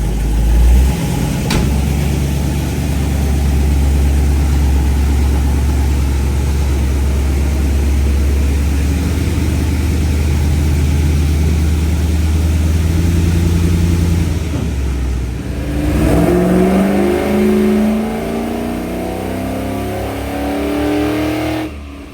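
An LS-swapped car runs on a dyno, its engine droning loud and steady with a strong low rumble, then the revs shift and rise in pitch before settling into a sustained high-rpm roar to the end.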